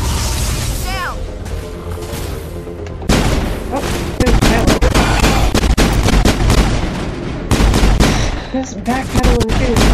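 Gunfire in the Mass Effect video game, rapid loud bursts of automatic shots and heavy booms in dense volleys through most of the stretch, with someone talking over the combat.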